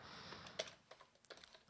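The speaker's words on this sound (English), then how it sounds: "Let's go ahead and press the Windows button on the keyboard." Quiet clicks from a computer keyboard as keys are pressed, including the Windows key: a handful of short, separate taps heard close up against a silent background.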